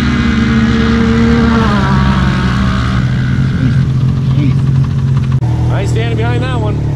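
A Can-Am Maverick X3 XRC Turbo RR side-by-side climbs out of a hole with its turbo engine revving hard and loud, pitch rising and falling across several throttle pushes, with people talking over it.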